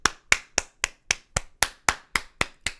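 A single pair of hands claps in a steady, evenly spaced rhythm, about eleven sharp, close, dry claps in under three seconds, alone with no voices.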